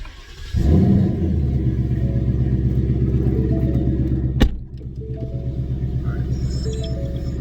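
A 2019 Ford Mustang GT with a Flowmaster active valve exhaust, valve closed, starts and idles with a deep, steady exhaust burble close by, with a sharp click partway through and the rumble continuing.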